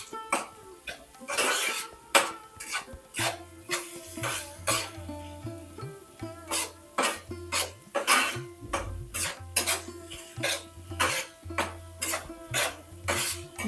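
Egg masala mixture sautéed in a pan. A spatula scrapes and clanks against the metal in a quick, repeated rhythm, close and fairly loud, throughout.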